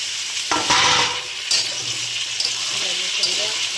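Taro and potato fry in oil with browned onion, crackling loudly as a utensil stirs and scrapes them in the pan, with bursts of sizzle near the start and a lower hiss continuing after.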